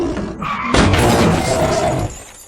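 A police car rams into a tiger with a loud, close crash and a shattering smash, followed by a sustained rumbling roar of impact and debris before it cuts off.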